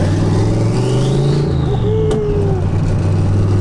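A Datsun fitted with a turbocharged 6.0-litre Chevy LS V8 drives past, its engine a loud, steady low rumble with a rising then settling rev and a brief turbo whistle near the middle.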